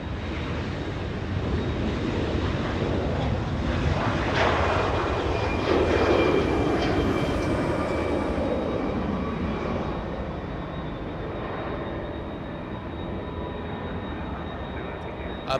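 Embraer E175 jets arriving and departing at Los Angeles International Airport give a broad engine roar with a high whine. The roar swells to a peak in the middle, then eases. A voice speaks underneath.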